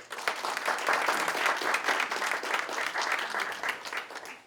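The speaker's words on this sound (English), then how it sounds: "Let's give him a round of applause" A round of applause from the crowd at a library donation event, many hands clapping in a lively, fairly distant patter that swells and holds for a few seconds before tapering off.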